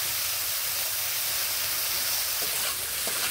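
Sliced ridge gourd sizzling in a hot pan with salt and turmeric powder, a steady close hiss of frying with a few faint knocks from stirring.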